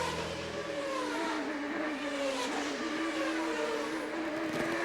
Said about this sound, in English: You ride with Patrick Carpentier, grabbing at that sequential gearbox.